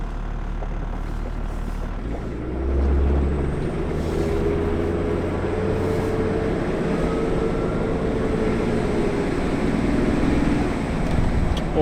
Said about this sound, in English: let's go for a quick spin down the road